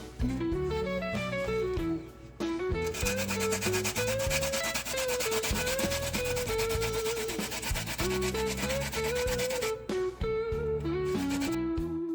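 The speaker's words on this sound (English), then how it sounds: "So I'm gonna grate the ginger right now" Fresh ginger is grated by hand for Jamaican gizzada: a continuous rhythmic scraping and rasping close by, running steadily under pitched background music.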